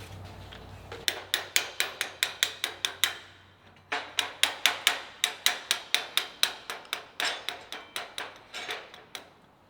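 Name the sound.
sledgehammer tapping hub wheel plate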